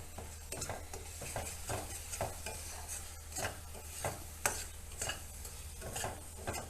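Garam masala fries in a pan for masala paneer, a soft continuous sizzle broken by repeated rhythmic scrapes of a spatula stirring, fairly close and quiet, with no talking.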